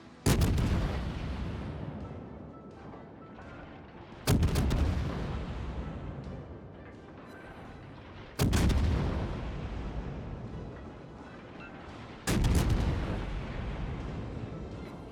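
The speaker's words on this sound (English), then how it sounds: "the Scharnhorst actually ran aground on the island, and I'm gonna just shoot her" Battleship main guns fire in the World of Warships naval game, four booming salvos spaced roughly four seconds apart, each a sharp loud blast trailing into a long rumbling decay.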